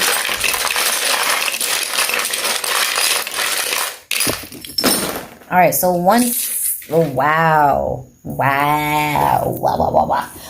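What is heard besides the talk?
coconut shell and dice dropped and clattering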